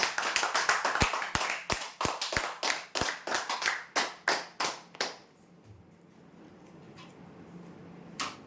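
Rhythmic hand clapping at a lottery draw, a crisp steady beat of claps that slows and spaces out before stopping around five seconds, leaving a quiet room with a couple of stray taps.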